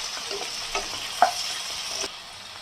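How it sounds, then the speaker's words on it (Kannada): Fried onions and chopped tomatoes stirred in a pan for a moong dal, a continuous close sizzle with soft scraping strokes and one sharper clink of the spoon. "ಇವಾಗ ಮತ್ತೊಂದು ಸರಿ ಚೆನ್ನಾಗಿ ಮಿಕ್ಸ್ ಮಾಡ್ಕೊಳ್ಳಿ"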